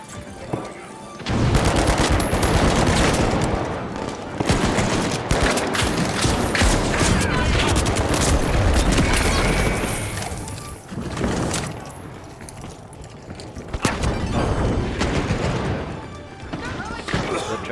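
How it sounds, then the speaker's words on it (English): A frag grenade is thrown and explodes amid sustained gunfire in a video game, dense overlapping bursts of automatic fire and thuds filling most of the stretch, loud and close, with people talking over it. "Throwing a frag."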